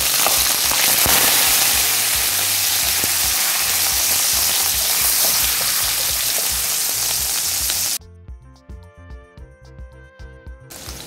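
Charque, a dried beef, frying loudly in a pan for a Northeastern Brazilian green bean sauté, a dense crackling sizzle that runs steadily and then cuts off abruptly, leaving quieter sparse sounds.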